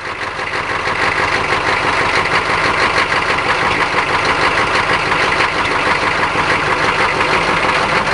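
The V8 engine of a K5 truck idles loud and close, with a steady rough rumble and some knocking and vibration throughout and no voices.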